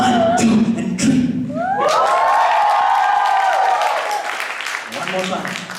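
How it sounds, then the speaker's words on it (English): Stand-up comedy crowd cheering on cue, a loud sustained roar of shouts and whoops with clapping that swells after a brief spoken lead-in and fades near the end. "Can you guys give me one cheer"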